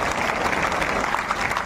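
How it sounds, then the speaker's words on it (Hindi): Crowd at a BJP public rally in Harda breaking into steady, dense applause, loud and continuous throughout. "जोरदार ताली बजाकर उनका हम सब स्वागत"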